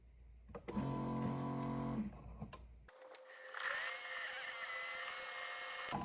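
A coffee pod machine runs a cleaning cycle, first a loud buzzing pump hum for a couple of seconds, then after a brief pause a steady whirring, gurgling hiss as water flows through.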